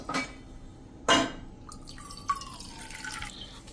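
Water goes into millet dosa batter in a few quick splashes and drips close by, followed by a quieter trickle and light liquid movement in a bowl, with no voices.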